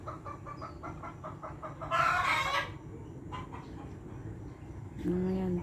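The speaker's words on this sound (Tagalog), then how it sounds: "Yan ang mga manok ko guys." Backyard chickens cluck in short repeated bursts, with a rooster crowing briefly and another loud call near the end, heard fairly close amid ambient farmyard noise.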